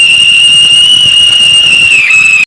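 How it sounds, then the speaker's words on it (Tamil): A Diwali whistle firecracker screams with one loud, sustained high-pitched whistle that holds steady for over two seconds, dips slightly near the end, then cuts off abruptly. "இது வந்து சரியான விசில் வெடி."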